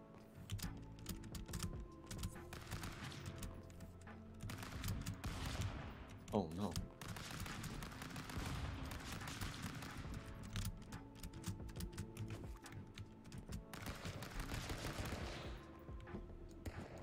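Rapid bursts of gunfire from the video game Stick Fight, mixed with busy computer keyboard clicking and a voice talking over the top, steady and dense throughout.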